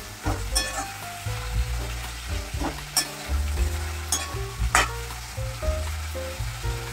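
Brinjal bhaji fries in a pan while being stirred, giving a loud, close sizzle. Sharp spatula scrapes and clacks strike at irregular intervals over a low steady hum.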